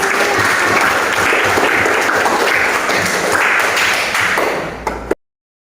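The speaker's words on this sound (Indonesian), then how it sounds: "Beri tepuk tangan untuk kita." A classroom of students applauds together, a loud, dense wash of clapping that holds steady for about five seconds, then tapers and cuts off abruptly.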